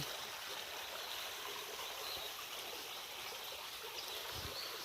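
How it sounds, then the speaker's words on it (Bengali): Water from a waterfall-fed stream flows among rocks in a forest, a steady broad rushing wash holding even and close for the whole stretch. "তারপরে ঝর্নার পানি"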